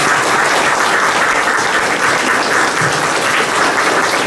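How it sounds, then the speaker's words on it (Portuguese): Congregation in a church giving a warm round of applause to welcome children at their first communion, dense, loud, steady clapping from many people sustained throughout. "vamos acolher estas crianças, seus pais e padrinhos, e a todos nós com uma calorosa salva de palmas de boas-vindas"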